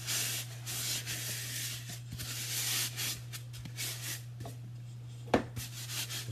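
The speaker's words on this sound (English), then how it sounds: "you just take your shortening and you grease your whole styrofoam layer" Shortening is spread over a styrofoam cake dummy layer, producing soft repeated rubbing and smearing strokes close up, with a low steady hum underneath and a sharper tap near the end.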